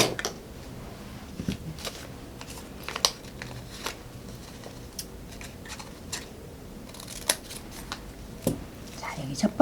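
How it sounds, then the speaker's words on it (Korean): Scissors snip through folded origami paper in small, irregular crisp clicks and rustles close by, with pauses between cuts and no speech. "여기 사선까지 가위로 한 번 잘라줄게요."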